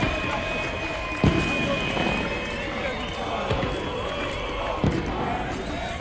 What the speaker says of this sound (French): Euphorie, célébration, you-you, klaxon, applaudissements